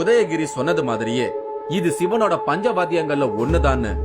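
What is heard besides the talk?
No distinct noise like a dog, phone or traffic.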